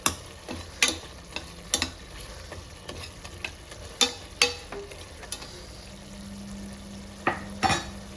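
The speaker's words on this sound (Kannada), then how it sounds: "ಈ ಥರ ಒಗ್ಗರಣೆಯಲ್ಲಿ ಹುಳಿ ಬೇಯಬೇಕು." Tamarind and chillies cooking in hot tempering oil, a soft steady sizzle broken by repeated sharp taps and scrapes of a spoon stirring and mashing in the pan.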